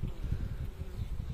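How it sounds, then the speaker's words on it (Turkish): Honeybees buzz steadily and low at an open beehive while a queen is being sought for marking, a dense close drone with no talk over it. "Arı ürkütmek de başımıza iş çıkarmasın."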